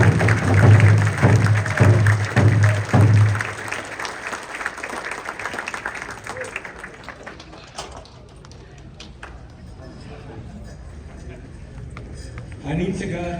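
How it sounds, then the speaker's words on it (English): Audience applause at a warriors gathering conference, a loud burst of clapping in the first few seconds that fades quickly into a quieter room with scattered noise. "let's all stand up and give him a round of applause first"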